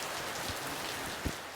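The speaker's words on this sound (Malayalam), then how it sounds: "എടി മഴയൊക്കെ തുറന്നിട്ട് പോവാ, നല്ല മഴയാ." Heavy rain falls steadily outside a home, a soft continuous hiss with a couple of brief dull thumps, heard alone without voices.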